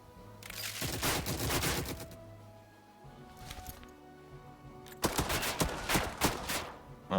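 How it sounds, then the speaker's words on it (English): Suppressive gunfire in the World War II strategy game Headquarters comes in two dense, crackling volleys of rapid shots, separated by a quieter stretch with a few scattered reports. "I guess we could do suppressive fire?"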